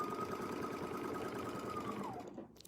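A sewing machine runs steadily through fabric, a continuous fast stitching whir at moderate level with a faint tonal whine that dips near the end as the machine slows and stops.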